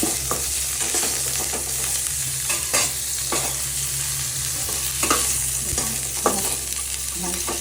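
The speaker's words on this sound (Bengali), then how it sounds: "ভেজে নিচ্ছি অল্প, হালকা করে ভাজবো" Garlic and onion fry lightly in a pan for a bitter-gourd kalia, a steady close sizzle running throughout, broken by repeated spoon scrapes and stirring knocks against the pan, with no talk.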